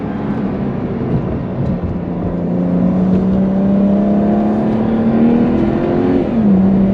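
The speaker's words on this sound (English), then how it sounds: "downshift to second gear." Sports car engine droning steadily at close range, its pitch climbing gradually under a continuous interior rumble, then dropping abruptly near the end as the driver shifts gears.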